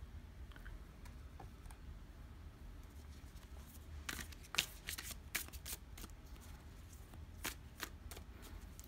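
A deck of tarot cards is shuffled close by, with soft riffling and sharp slapping flicks in uneven bursts over a quiet room, without speech.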